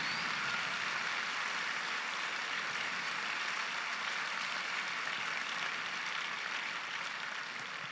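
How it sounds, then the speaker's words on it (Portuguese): Church congregation applauding steadily, a dense, even wash of clapping that holds at a fairly constant, moderate level for several seconds, with no voices over it. "Aplauda Jesus, Ele é digno."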